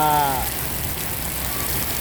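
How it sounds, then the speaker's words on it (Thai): Heavy rain pours down steadily on a worksite where an SDLG E6150F excavator is operating, a dense, even hiss that fills the whole stretch after a brief tonal sound at the very start. "ฝนตกหนักครับ"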